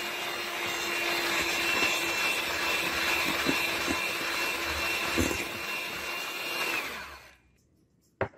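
A handheld electric mixer whirs steadily at medium speed while beating sponge cake batter, a constant motorized hum with faint clinks against the bowl, then cutting off near the end before a couple of small knocks.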